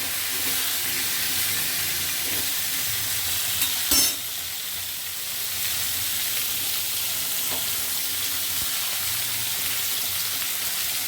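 Cubed kohlrabi fries in hot oil with a steady, close hissing sizzle that runs throughout, broken by one brief knock of stirring partway through.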